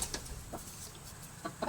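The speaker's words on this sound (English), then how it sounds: "One of my little hens just jumped up behind us." A small backyard hen clucks close by in a few short, scattered bursts, brief pecking-order calls rising above a quiet room tone with no talking.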